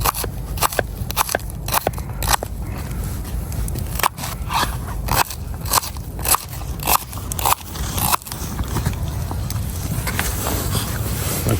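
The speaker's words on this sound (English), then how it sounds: "Then just roughly dice it." A knife roughly dices a shallot during outdoor campfire cooking, giving a close run of crisp, crunchy chops in an uneven rhythm that settles into steadier, softer cutting, with no talking.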